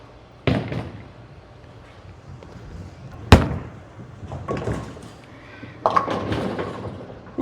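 A bowling ball is thrown down the lane during a practice session: a sharp thud as it lands, then a rumbling roll and later clatter, all fairly loud within a reverberant alley.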